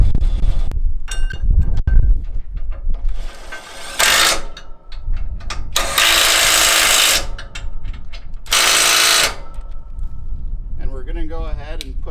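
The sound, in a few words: power tool bolting a plate onto MacDon FD2 header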